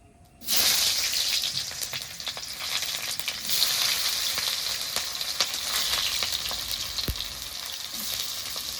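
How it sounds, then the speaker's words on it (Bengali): Chopped onion hits hot oil in a pan for a Maggi dish, bursting into a loud, steady sizzle that holds close and even for several seconds, with faint stirring ticks and no voices. "এবার কেটে রাখা পেঁয়াজ ক্যাপসিকাম টমেটো এগুলো ভেজে নেব"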